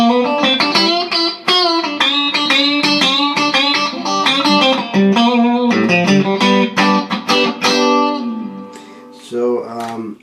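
Electric guitar played through a Vox VT80 modeling amp set to a blackface Fender Twin Reverb 2x12 emulation, loud clean chords and single-note runs ringing close with bright, sustained tone, alone.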